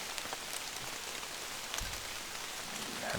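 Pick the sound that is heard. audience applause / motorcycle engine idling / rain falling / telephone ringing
rain falling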